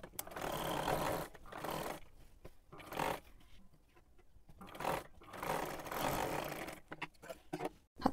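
A sewing machine stitches the neckline of a kurti in several uneven runs separated by brief pauses, moderately close but fairly quiet, with no talking.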